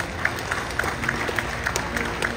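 Live studio audience clapping hands in a level-one warm-up: steady, even rhythmic claps from a crowd, close and moderately loud, with no cheering or voices over them.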